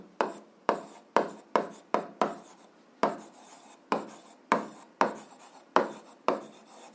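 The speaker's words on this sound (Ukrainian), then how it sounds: "Записуємо перше. Так і пишемо точка перетину." Pen or chalk writing by hand in an algebra lesson: about a dozen sharp, scratchy strokes in quick irregular rhythm, close and fairly loud, with no talking.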